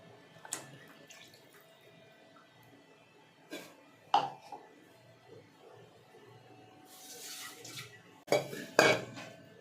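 A spoon stirring coconut milk into payesh in a cooking pot, giving a few scattered, quiet clinks and scrapes of metal on metal with soft lapping between them.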